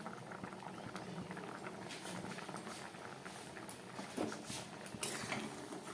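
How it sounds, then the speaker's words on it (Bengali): Moong and matar dal boiling in a kadai; soft, continuous bubbling and popping at low volume, with occasional slightly louder blips, close and alone without talk. "ডালটা ফুটে উঠেছে, এখনো ভালো সিদ্ধ হয়নি"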